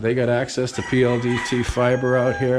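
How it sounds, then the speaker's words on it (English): Someone talks in the foreground while roosters crow and cluck in the background, their calls faint and intermittent beneath the speech. "You can hear the roosters in the background."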